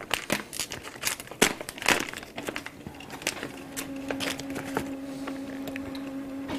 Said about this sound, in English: So whilst it's doing that I'm going to open this package here.